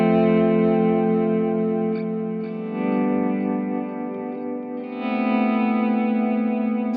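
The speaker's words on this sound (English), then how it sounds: "what you're hearing there is just some analog echo, and then with the vibrato as well in the modulation section" An electric guitar played through a Nova System effects pedal set to analog echo with vibrato modulation, sustained chords wavering and shimmering with a trailing echo, swelling again near the end, played alone without talk.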